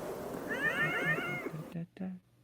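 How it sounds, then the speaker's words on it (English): A cat meows loudly in a drawn-out, wavering call, close by, followed by a short second meow. "The cat is loud right now."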